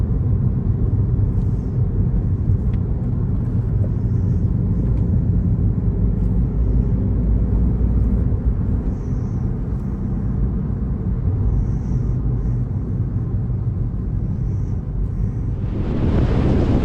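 A Volkswagen Polo R-Line drives along a back road, a continuous heavy road and engine rumble with wind noise, swelling into a louder rush near the end, with no talking.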